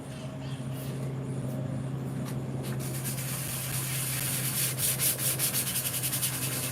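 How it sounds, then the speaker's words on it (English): The body of a Dodge Dart is hand sanded with 800 grit sandpaper, a close, steady rasping rub over a low background hum that turns into quicker back-and-forth strokes toward the end. "This is 800 grit sandpaper. We're just giving it a little more love."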